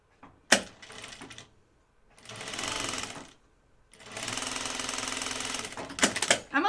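A sewing machine runs in two sustained bursts stitching a strip of bias binding onto a Blanca flight suit, fairly loud and close, with short clacks and handling noises between and around the runs.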